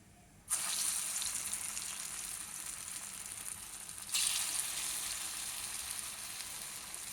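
Batter dropped into hot oil for iftar snacks sizzles loudly, a sudden bright frying hiss that settles into a steady crackle, then flares again with a second drop before continuing evenly.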